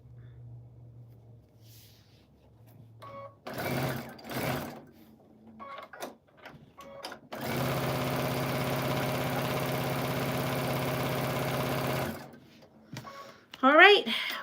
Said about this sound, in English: I'm gonna sew this one up.